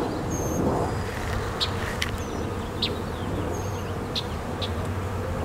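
Honey bees buzzing around an open hive box on a homestead, a steady dense hum at low volume with individual bees zipping close past in brief louder passes, no talk.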